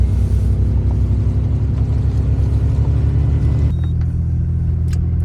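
A four-wheel-drive vehicle climbing a snowy gravel road, its engine a loud, steady low rumble and drone throughout, with the tone dropping and shifting near the end, no talk.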